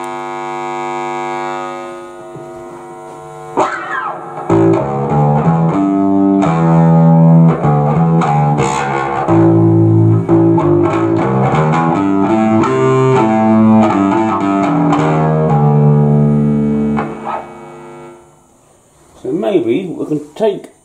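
A bass synth through overdrive and distortion guitar pedals plays a gritty, buzzing melodic line for most of the clip, loud and upfront, ending with a few wobbly tones.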